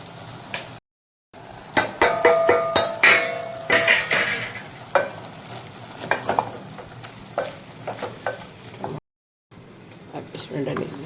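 Minced keema frying in a pan with garlic-ginger paste, a steady sizzle broken by spoon stirring and scraping and sharp metallic clinks against the pan, close and fairly loud, with brief dropouts.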